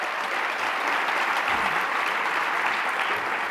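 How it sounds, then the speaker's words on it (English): Audience applause at a women's empowerment event in Westchester, New York, a steady, dense wash of many hands clapping that holds evenly throughout without talk. "Let's give her another round of applause."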